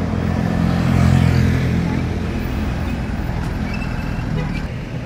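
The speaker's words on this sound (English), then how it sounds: "I see the bus coming" A city bus comes along a busy street in Mactan Newtown, its low engine rumble swelling and then easing, set against continuous traffic noise.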